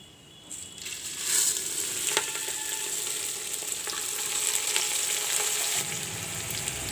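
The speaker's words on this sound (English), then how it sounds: "Now I will put in the rice, the basmati rice, the washed rice." Washed basmati rice goes into hot oil with cloves, the sizzle rising into a steady close frying hiss with scattered scraping clicks from stirring and the grains shifting in the pan.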